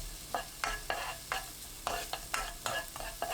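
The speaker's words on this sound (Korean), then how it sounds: "달궈지지 않은 팬에 식용유 1큰술, 다진 마늘 반큰술, 파 넣고 센 불로 볶습니다" Close, steady sizzling of minced garlic and scallions stir-frying in oil over high heat, with rhythmic scraping stirs every half second or so over the crackle.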